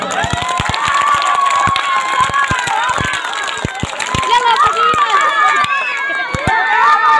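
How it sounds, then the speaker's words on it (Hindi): Audience at a Republic Day poem recital breaking into clapping and cheering, a dense burst of hand claps mixed with excited children's shouts and voices throughout, loud and close. "हाथ उठाकर ताली बजाओ।"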